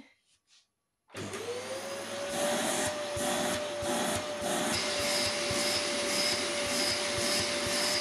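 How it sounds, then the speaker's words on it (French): After a second of near silence, a vacuum cleaner switches on and whines steadily at close range on carpet, cleaning a urine stain, its motor tone climbing slightly as it runs. "je vais aspirer, on verra ce que ça donne"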